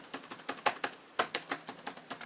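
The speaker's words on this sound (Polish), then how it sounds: "klikam klawisz" Keys on a Dell Vostro 1540 laptop click close up in a quick, uneven run of light taps, with a brief pause midway.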